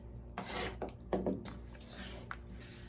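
Quilt block of plaid shirt fabric being trimmed, a few brief rough cutting and rubbing strokes against the fabric, close and soft, with short pauses between them.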